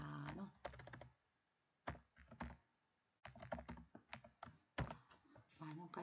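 Computer keyboard typing during spreadsheet exam practice: close, crisp keystrokes in irregular quick bursts with short pauses, including a couple of heavier single key presses.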